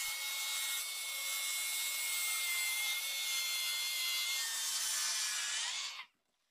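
A power saw cuts lengthwise along an IKEA kitchen worktop, a loud, steady whining rasp held for about six seconds before abruptly stopping.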